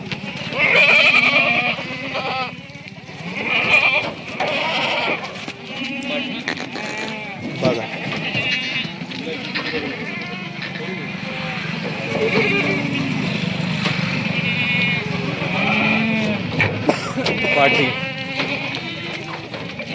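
Several Kathiawari goats bleat on and off at close range, mixed with a steady background buzz and someone speaking intermittently.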